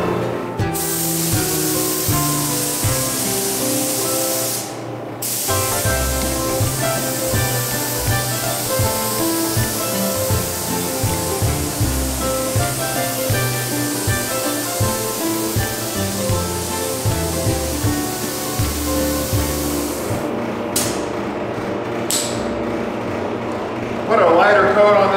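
A spray gun sprays sealer onto a used Leer truck camper shell, making a loud, continuous hissing spray with a brief pause around the fifth second and a few short bursts near the end.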